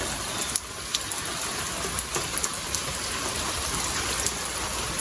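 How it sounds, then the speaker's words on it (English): Steady rain falls outdoors, a dense close hiss with scattered louder drips and patters striking surfaces, no voices. "It's raining."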